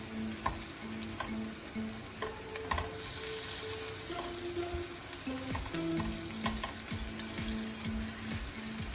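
Cauliflower and red onion bhajis fry in oil in a pan with a steady close sizzle, punctuated by light clicks and scrapes of a utensil, and no talk.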